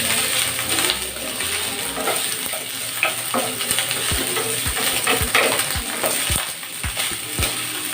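Garlic fried rice with egg sizzles steadily in a non-stick pan, with repeated scraping and clinking strokes of a spatula stirring it in a regular rhythm, close and fairly loud.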